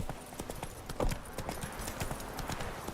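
Horse hooves clip-clop at a steady trot in The Witcher 3 video game, with a rapid rhythm of close, clear strikes over a low background rumble.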